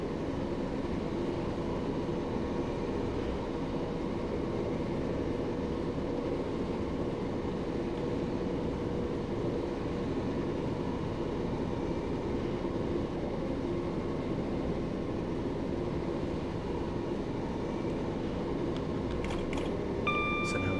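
Class 375 electric train coasting with power idled on a simulated Strood to Tonbridge line in Train Simulator 2018: a steady low rumble and hum of wheels on rail, with a few faint clicks near the end.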